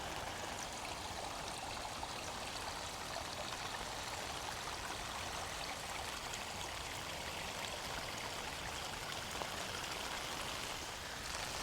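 Rainwater runoff rushes steadily like a small creek during rainfall, a constant faint hiss of flowing, trickling water with no voices.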